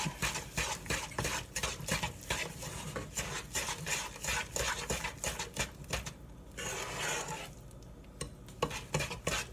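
Sweetened condensed milk mixture for a caramel candy being stirred in a pot, rapid rhythmic scraping strokes close by, continuous with a brief pause near the end.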